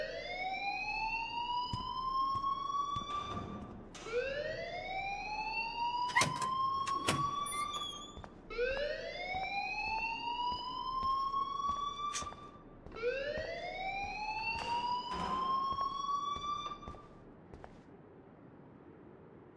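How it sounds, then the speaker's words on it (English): A fire alarm in a school corridor in the game Life is Strange gives four rising electronic whoops in a steady repeating cycle, with brief clanging beeps between them, loud and unbroken by talk. "please turn off that alarm"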